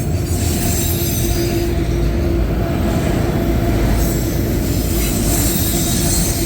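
A Conrail freight train passes close and loud, a dense steady rumble of wheels on rail with a sustained squealing tone and no voices.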